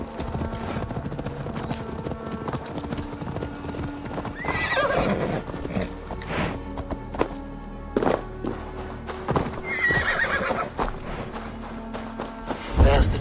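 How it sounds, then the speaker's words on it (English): Horses in Assassin's Creed Valhalla gallop with steady clip-clopping hooves and several loud neighs and whinnies, set over a game soundtrack with occasional thuds. "Basim, Eivor, to horse!"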